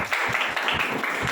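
A church congregation clapping hands together during a Hindi Christian sermon, a steady, rhythmic wash of many hands beating in time, moderately loud and filling the space.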